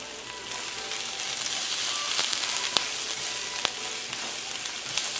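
Garlic frying in olive oil in a pan gives off a steady, close sizzle. The crackle holds even throughout, and a few sharp pops rise above it.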